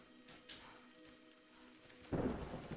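Rain and a roll of thunder in the game A Highland Song, a soft steady rain wash under a faint distant rumble, then a louder, closer crack of thunder near the end.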